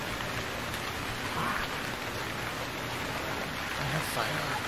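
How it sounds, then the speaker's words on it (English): Rain falling in the survival game Stranded Deep, a steady hiss of downpour with soft patter on surfaces, moderate and continuous, with a few faint incidental sounds over it. "Very weird to see rain like this."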